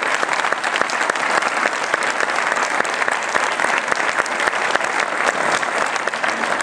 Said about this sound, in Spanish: No sé cuántos pueden darle un aplauso al Señor Jesucristo todavía.